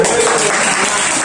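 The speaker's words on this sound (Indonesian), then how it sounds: "Beri tepuk tangan." Students in a classroom lesson clap together after a quiz answer, a loud, continuous wash of applause that stays level from start to finish.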